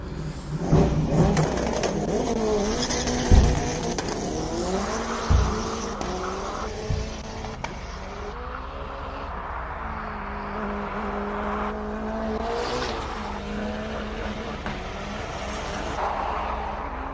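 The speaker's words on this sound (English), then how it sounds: "I love the sound of that car coming up next." Race car climbing the hill at a hill climb event, its engine rising and falling through gear changes and passing near with a sustained roar, alone without talk.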